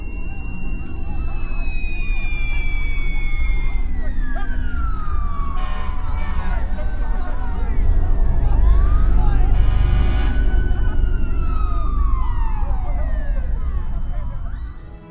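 Wailing ambulance and fire truck sirens in the film Flight, sweeping up and down in long glides over a steady low rumble of traffic and commotion, loud and continuous with several overlapping siren calls.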